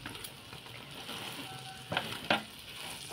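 An egg and a flatbread roll fry together in a pan with a steady, moderate sizzle, interrupted near the end by two brief clatters of utensil against pan.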